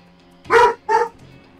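A dog in the tactical shooter Door Kickers 2 gives two quick, loud barks in succession during an indoor breach, with no talking over it.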